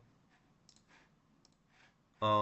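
A single crisp computer mouse click lands on a checkbox at the very end, sharp and close after a quiet stretch with faint background sounds.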